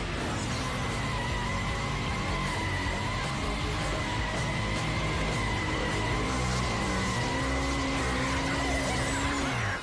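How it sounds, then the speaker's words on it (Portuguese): A motorcycle burnout with its tire squealing against pavement, a continuous loud screech with steady tonal whine and engine roar that runs unbroken throughout. "Queimando o pneu."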